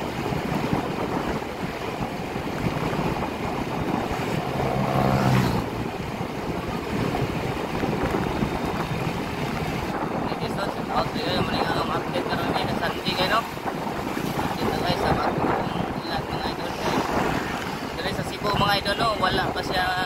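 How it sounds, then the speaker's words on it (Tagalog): Gusty wind roars continuously outdoors, buffeting the microphone with a heavy broadband rumble that swells and eases throughout. "Naghangin siya mga idol."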